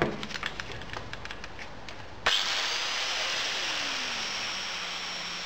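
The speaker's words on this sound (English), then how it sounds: "Here is the second grinding test. I'll use the nickel shot." An angle grinder starts abruptly on a nickel shot specimen from hard drive metal, giving a loud, steady high-pitched grinding hiss after a few light ticks and handling taps.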